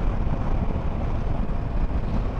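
Yamaha XVS 650 Dragstar cruiser motorcycle at a steady 90 km/h in fifth gear, a continuous low engine and road roar heavily mixed with rushing wind buffeting the microphone, with no voices.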